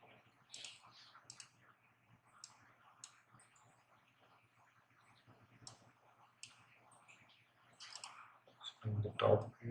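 Computer mouse clicking on a desk while the StaadPro structural design program is worked in: soft, scattered close clicks over a steady low hum, partly under a person's talk, ending in a louder burst.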